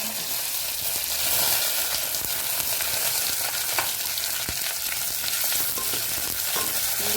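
Mustard seeds, cumin, curry leaves and chopped onion sizzle in very hot oil for sweetcorn masala rice, a dense, loud, continuous crackle and hiss with scattered pops, close up and steady throughout.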